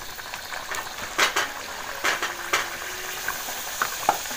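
Banana puri dough dropped into hot oil, a steady low sizzle of frying with a few sharper bursts and crackles as pieces hit the pan, close and fairly quiet.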